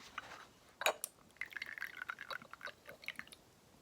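Tea pours into a cup in a quiet room, a soft trickling fill with a clink of glass near the start, close and gentle.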